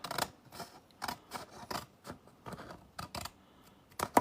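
Scissors snip the top off a Christmas card in a string of quick, soft, close-up cuts. The cuts come in a steady rhythm, with a sharper crisp snip at the very end.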